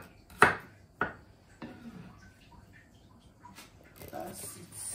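A knife chops garlic cloves on a board while cooking Nigerian jollof rice: a few sharp, close cutting knocks in uneven rhythm, followed by softer taps and light kitchen clatter.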